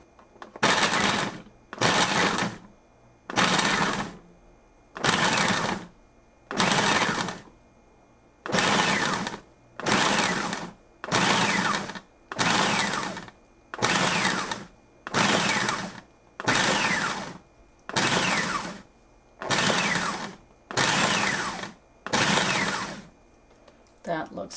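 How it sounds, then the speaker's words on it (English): A Braun FP3020 12-cup food processor pulses through onions in sixteen short, even bursts of loud whirring chop, each about a second long and separated by brief pauses, close up with no talking. "We'll set the speed to 15 and pulse a few times until the onions are chopped."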